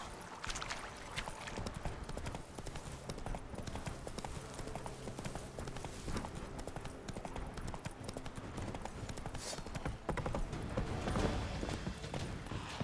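Roach the horse clip-clops along at a steady trot in The Witcher 3, hoofbeats continuous and fairly close over a dense ambient game soundscape, with a brief spoken line.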